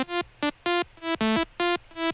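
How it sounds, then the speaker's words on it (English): A raw single-layer sawtooth synth lead plays a melody of short, bright, buzzy notes in a bouncy rhythm, each note clipped with a quick downward pitch drop, alone and upfront. "this is just the init lead."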